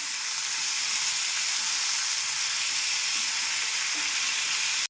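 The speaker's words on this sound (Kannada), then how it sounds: "ಸ್ವಲ್ಪ ಸಾಫ್ಟ್ ಆಗೋವರೆಗೂ ಹುರಿರಿ" Cashews and almonds frying in a pan for a paneer peas masala, a steady broadband sizzle with faint stirring ticks, continuous and close throughout.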